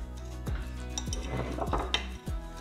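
A cooking pot is handled on a stove while cheese-leek soup with minced meat is being made, giving several quiet, spaced metallic clanks and knocks.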